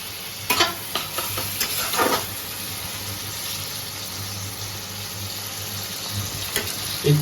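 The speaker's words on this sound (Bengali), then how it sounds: "দিয়ে দেবো টমেটো। ভালো করে ফ্রাই করে নেওয়া হচ্ছে।" Tomatoes fry in oil for tomato dal, giving a continuous close sizzle. A spoon stirs and scrapes the pan in a few sharp strokes early and again at the end, with no talking.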